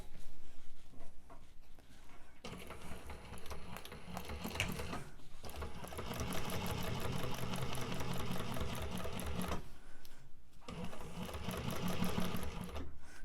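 A sewing machine fitted with a zipper foot stitches a 3/8-inch seam on a small fabric wristlet beside a zipper, running in steady rapid bursts of mechanical whirring and ticking with short pauses between runs, close and alone.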